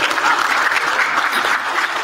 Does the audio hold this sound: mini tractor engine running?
no